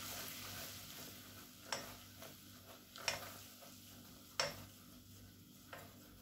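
Flour being stirred into melted butter in a saucepan for a chicken blanquette roux, a soft continuous scraping with a faint sizzle and a few sharp utensil taps against the pan, quiet throughout.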